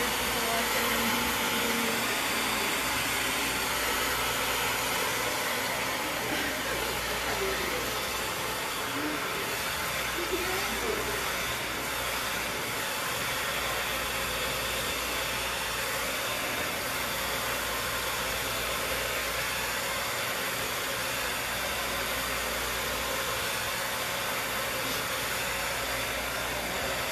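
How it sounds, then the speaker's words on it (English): A hair blow dryer runs through a haircut demonstration of diagonal cuts, a loud, steady broadband whoosh that holds evenly throughout with no breaks. "Now you see that blow dryer?"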